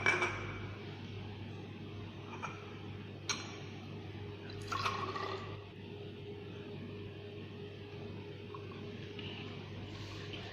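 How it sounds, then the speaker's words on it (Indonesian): Fifty millilitres of boiled water poured into a bottle of cefadroxil dry syrup, a faint liquid trickle with a few small glassy knocks and clinks, in quiet surroundings with no talking. "Lalu air yang 50 ml dimasukkan ke dalam sampel cefadroxil."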